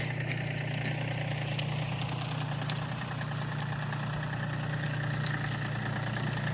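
A tiller runs over a garden field being prepared for garlic beds, its engine giving a steady, unbroken mid-low drone with a constant hum, moderately distant and alone.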